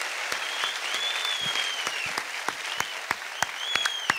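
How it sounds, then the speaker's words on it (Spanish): Audience at a stand-up comedy show bursts into applause, a dense steady patter of clapping with a few louder individual claps standing out throughout. "¡Fuerte el aplauso, Muerto!"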